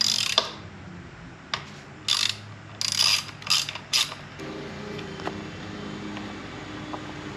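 A ratchet wrench clicks in short bursts while loosening a bolt on a Royal Enfield GT 650 motorcycle during a valve adjustment, several quick ratcheting runs up close over a quiet room hum, followed by faint taps.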